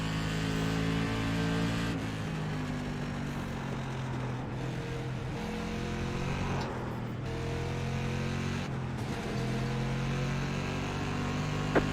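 A race car engine roars in the iRacing sim, a loud, sustained drone whose pitch shifts with throttle and gear changes, briefly cutting and returning several times.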